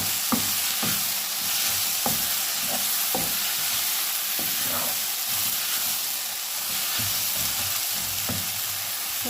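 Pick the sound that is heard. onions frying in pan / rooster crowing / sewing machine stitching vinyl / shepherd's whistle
onions frying in pan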